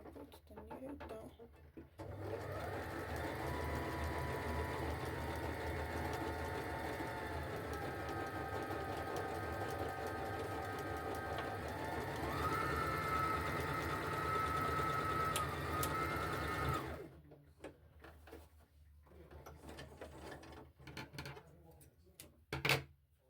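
A sewing machine stitches a zigzag pattern with a steady, close mechanical whir that runs for about fifteen seconds, its pitch rising partway through. It then stops and leaves quieter handling noises.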